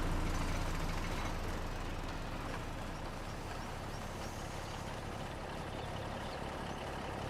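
A truck engine in Farming Simulator 25 rumbles steadily at low volume, a constant droning hum that holds evenly throughout without speech.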